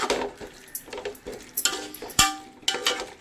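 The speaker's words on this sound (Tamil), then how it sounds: "இப்போ நெக்ஸ்ட்டு நம்ம மேரினேட் பண்ணி வச்சுருந்த சிக்கன் அது கூட ஆட் பண்ணுறோம்" Marinated chicken tipped into a pan of fried onions for chicken biryani, with clattering spoon stirs, pan knocks and a light sizzle coming in short irregular bursts close by.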